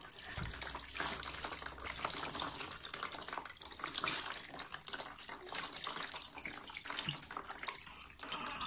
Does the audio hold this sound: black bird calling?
no